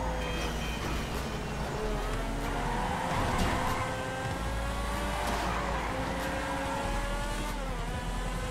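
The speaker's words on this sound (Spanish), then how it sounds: "estamos corriendo contra autos chidos" Race cars in an illegal street race in the video game GTA V, engines droning steadily and close for several seconds with shifting revs and no talk.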